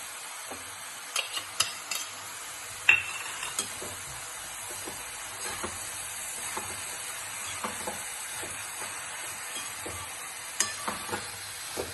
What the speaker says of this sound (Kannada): ನೋಡಿ, ಇವಾಗ ತೊಗರಿಬೇಳೆ ಹಾಕ್ತಾ ಇದ್ದೀವಿ